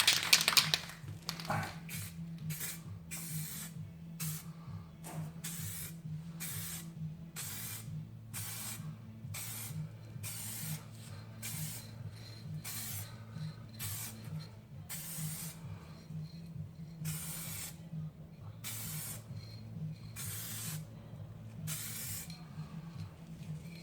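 A spray gun lays Sapphire Blue metallic paint onto the rusty-repaired sill of a Jaguar XK8 in repeated short hissing bursts at a steady rhythm, close and clear over a low background hum.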